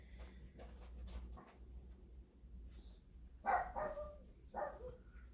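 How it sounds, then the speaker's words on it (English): Puppies bark indoors a few times, faint at first, then two louder, sharper barks near the end over a low room hum. "my puppies decided now was the time they wanted to go outside and play."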